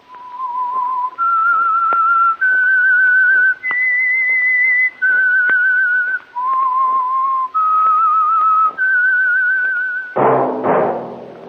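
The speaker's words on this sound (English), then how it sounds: "That whistle is your signal, the Whistler." Loud, close whistled signal tune for The Whistler radio show, a sequence of sustained clear notes stepping up and down in pitch, ending with a brief noisy burst.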